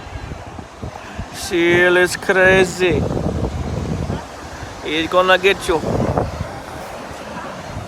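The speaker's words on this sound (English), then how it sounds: "Listen to them waves." Ocean waves wash steadily onto a beach as a broad, constant roar in the background, while someone talks loudly over it in two bursts.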